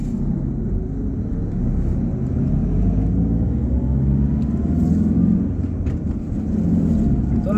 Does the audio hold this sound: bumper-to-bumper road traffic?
yes